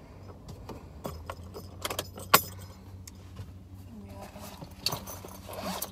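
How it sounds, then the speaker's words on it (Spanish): Keys jangling in a car as it is switched off after a drive to the supermarket, light metallic clinks and rattles scattered over a low idle hum, close by, with faint background noise and no clear talk. "entonces voy a apagar el carro"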